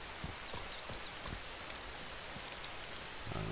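Steady rain in the survival video game DayZ, a continuous dense hiss of falling drops with a few soft low thumps, even and close throughout with no talk.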